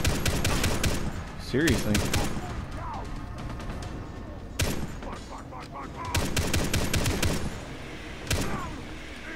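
Mounted machine gun in the video game Far Cry 3 fires in bursts of sharp shots amid explosions and chaotic game noise, with someone talking over it.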